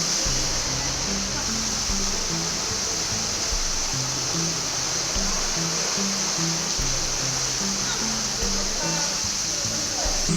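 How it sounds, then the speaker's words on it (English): A waterfall in Brecon Beacons National Park roars as a steady, loud broadband rush filling the whole stretch, with people talking faintly under the water noise. "Waterfall number 5. Definitely one of my favourite waterfalls."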